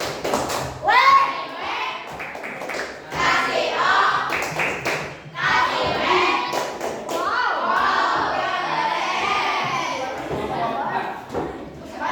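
A school class performs the rhythmic "tepuk wow" patterned clap, sharp bursts of hand claps and thumps in quick sequence, mixed with children's voices and talk throughout.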